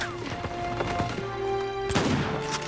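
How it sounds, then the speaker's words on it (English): Shotgun blasts and other gunfire crack in a quick burst during an online multiplayer match of Uncharted 4, with game effects around the shots and no talking. "shooting the shotgun from all the way over there"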